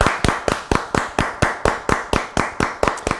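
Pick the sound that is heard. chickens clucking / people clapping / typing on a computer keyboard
people clapping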